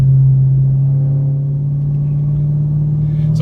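A Dodge Hellcat's engine drones steadily while driving, a loud low constant hum with rumble underneath and no voices.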